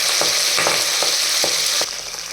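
Mustard seeds, cumin and garlic fry in hot oil in a clay pot, a steady loud sizzle close by with soft rhythmic stirring scrapes, the hiss easing slightly near the end.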